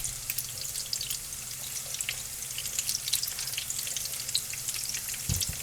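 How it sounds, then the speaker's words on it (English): Potato tacos frying in oil until crispy, a steady close crackling sizzle with dense bright spatters running throughout and a brief thump near the end. "So I'm going to let these fry up until they're crispy."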